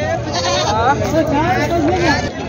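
Goats bleat repeatedly in wavering cries at a busy weekly livestock market in Osmanabad, Maharashtra, with sheep also present. The calls rise over steady crowd chatter and nearby voices.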